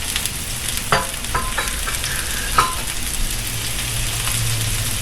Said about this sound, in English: Now that I have all the vegetables on the griddle, I'm going to take my spatula